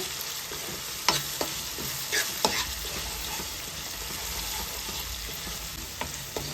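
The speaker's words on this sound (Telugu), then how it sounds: "ఒక స్పూను అల్లం వెల్లుల్లి పేస్ట్ వేసుకోవాలి ఇది కూడా వేపుకోవాలి" Ginger garlic paste fries in a pan with softened tomatoes and onions for a jackfruit seed curry, giving a steady low sizzle with occasional spatula scrapes and taps, close and moderately quiet.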